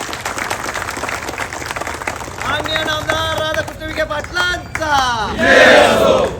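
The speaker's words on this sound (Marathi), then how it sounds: "एकदा जोरदार टाळ्या पालकमंत्र्यांसाठी आपण कराव्या" Crowd at a political rally bursts into applause and cheering for the guardian minister, loud clapping and shouts swelling toward the end, with announcer-style talk at the start.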